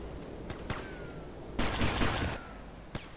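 Gunfire in GTA Vice City: a few sharp isolated shots, then a dense burst of rapid fire lasting under a second, followed by one more crack, fairly close against a quiet background.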